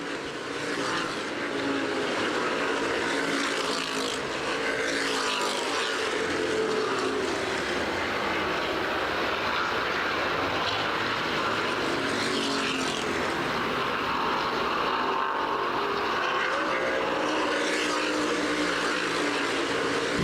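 CRA street stock cars race at Winchester Speedway during a 40-lap event at the 2010 World Stock Car Festival, a loud, sustained roar of several engines rising and falling continuously with no break.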